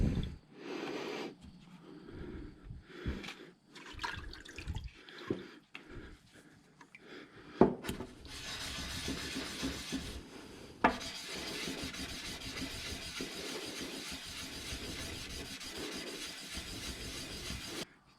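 A stone cabochon is hand sanded on 600 grit, first with soft irregular rubbing strokes, then a steady close scratchy rasping that continues to the end; no speech.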